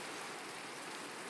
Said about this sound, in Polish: O Boże, deszcz jeszcze.